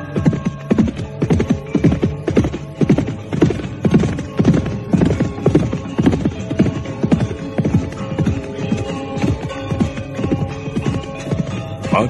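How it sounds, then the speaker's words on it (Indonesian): Several horses gallop fast in a steady, loud clip-clop of hooves that runs the whole way through, with a brief whinny mixed into the pounding rhythm and no voices. "Badrawati dan Lare Angon memacu kudanya pula dengan cepat."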